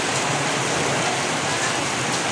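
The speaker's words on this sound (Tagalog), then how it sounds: "Napatigil tayo kasi gawa din ng malakas na ulan ito." Heavy rain pours down steadily outdoors, a dense, loud, unbroken hiss of drops hitting surfaces close by, with no talk over it.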